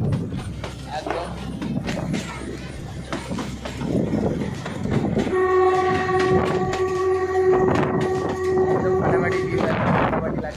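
A 110-year-old narrow-gauge toy train running through forest between Bilimora and Waghai, with a steady rumble and clatter of the carriages and a long sustained horn blast in the second half, heard from on board amid chatter.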